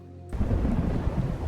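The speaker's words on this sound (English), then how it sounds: "It's raining." Rain and rumbling thunder from The Elder Scrolls V: Skyrim set in during a fishing quest, starting abruptly after a brief quiet moment and then staying as a steady, dense low roar.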